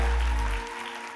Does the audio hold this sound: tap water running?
no